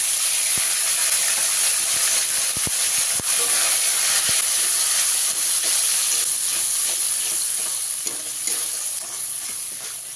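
Ginger, tomato and green chilli paste frying in hot oil for a vegetarian pea ghugni, giving a loud, steady, close sizzle and hiss with a few sharp stirring clicks throughout.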